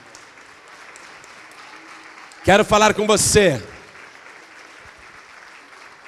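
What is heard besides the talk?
church congregation applauding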